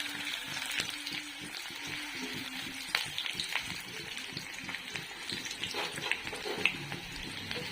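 Onions sizzle and fry in a pan while being stirred, giving a soft, steady crackle with scattered scraping knocks from the stirring, all fairly quiet and close.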